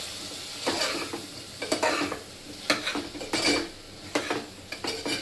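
Chilli powder, garam masala and coriander powder are stirred together in a pan for dal, with several bursts of scraping and clinking from a spoon against metal and faint sizzling between them.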